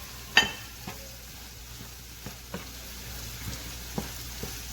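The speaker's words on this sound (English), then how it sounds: "So I'm going to stir for say 2 minutes." Red, yellow, orange and green peppers stir-fried in a pan for Nigerian fried rice, a soft steady sizzle broken by several sharp clicks and scrapes of the spoon, one louder knock near the start.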